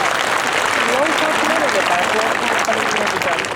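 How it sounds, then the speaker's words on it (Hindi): An audience at a Jharkhand yoga programme applauds in welcome, a loud, even wash of clapping filling the whole stretch with voices faintly mixed beneath. "संयोजक परिवार बहुत जोरदार तालियों से आपका हार्दिक स्वागत करता है"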